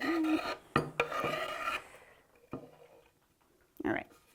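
A knife scrapes corn kernels off the cob in a kitchen, making several short rasping strokes in quick succession, close and fairly quiet, followed by a pause and then a couple of isolated scrapes.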